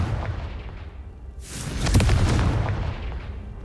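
A Confringo spell explosion in Hogwarts Legacy: after a low rumbling ambience, a loud burst hits midway and swells into a heavy, booming blast that rolls on and slowly decays, with no voices.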